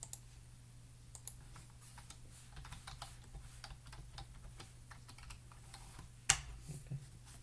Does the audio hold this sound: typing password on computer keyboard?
yes